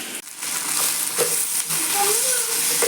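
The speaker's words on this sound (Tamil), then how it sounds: "சின்ன வெங்காயத்தை இதோட சேர்த்துக்கலாம். நல்லா வதக்கணும் வெங்காயத்தை." Shallots and curry leaves sizzle and crackle loudly in hot oil while being stirred, a dense, continuous frying hiss close up for a mutton kola urundai kulambu.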